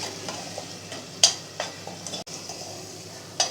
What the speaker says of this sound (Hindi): आंच थोड़ी सी हमने तेज़ की इसकी, और इसको अच्छे तरीके से भून लेंगे 2-3 मिनट तक